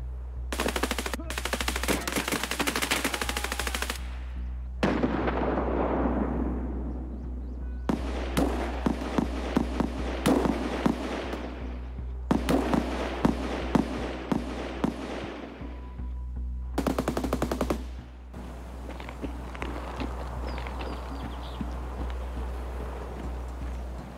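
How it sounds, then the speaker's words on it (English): Rapid automatic gunfire bursts and single shots in the video game Escape from Tarkov, loud and close, arriving in dense clusters separated by brief gaps over steady background noise. "I was working my way up towards the secret stash and I got shot."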